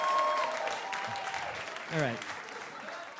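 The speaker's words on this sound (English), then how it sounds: "Why are we clapping for that, okay?" A comedy club audience claps in a short burst of applause while someone talks briefly over it.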